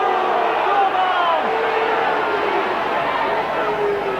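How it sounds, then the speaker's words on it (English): A Featherstone rugby league crowd roaring and baying at a match against Leeds, a loud, steady, distant mass of voices. "And the Featherstone crowd baying for blood at every possible."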